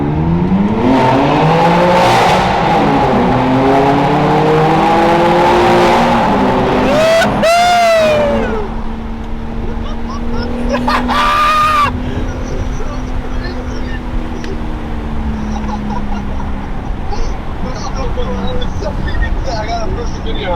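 Straight-piped BMW M4 exhaust revving hard and accelerating, loud and close at first with rising pitch sweeps, then fading to a lower drone as the car pulls away, with voices heard.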